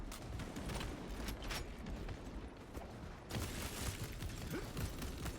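A weapon is reloaded in the video game Warhammer 40K Space Marine 2: quiet mechanical clicks and clacks over a constant wash of rumbling battle noise.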